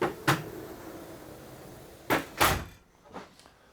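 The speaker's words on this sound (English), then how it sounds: "the door is sliding through the bar" A sliding galley door on an Outremer 52 catamaran runs along a bar fixed to the worktop, giving a few close, sharp knocks and slides, followed by fainter clunks.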